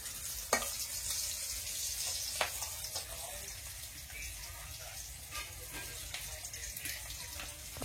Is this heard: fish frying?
yes